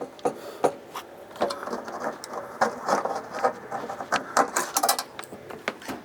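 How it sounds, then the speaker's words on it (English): A small pry scraper works under the motor of an Air Shammee self-serve dryer to peel away its seal, producing irregular close scratchy scrapes, clicks and taps in uneven bursts. "I'm just going to take this little pry scraper and get underneath that motor and just kind of peel that seal."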